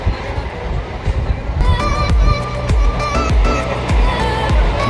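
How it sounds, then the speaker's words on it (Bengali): A local train on the Ranaghat to Bongaon line pulling out of Gangnapur station, a rumbling roll with regular rhythmic wheel clacks picking up pace, close and steady, with a voice talking over it. "আমাদের ট্রেন এই মুহূর্তে গাংনাপুর প্ল্যাটফর্ম ছেড়ে বেরিয়ে পড়লো তার পরবর্তী গন্তব্য।"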